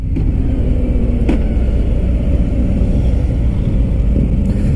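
A 2018 Harley-Davidson Fat Bob engine downshifts while riding: a loud, close, continuous motorcycle rumble that holds steady throughout.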